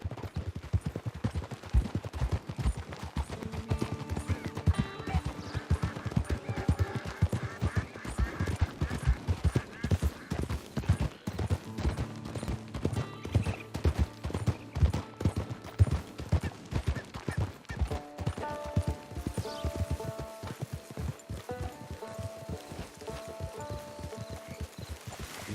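Horse hooves clip-clop steadily and close in Red Dead Redemption Online, a continuous trotting rhythm under game music, with no talk.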